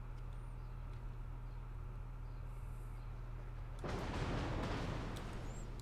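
Warship turret guns in World of Warships, fired from the cruiser Helena, land as a broad, loud burst that rolls on for about two seconds over a steady low engine drone.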